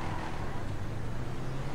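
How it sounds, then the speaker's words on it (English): Car engine in a driving video game, a steady low droning hum with a broad noisy wash of road sound, loud and continuous without breaks. "I do love the sound of this car."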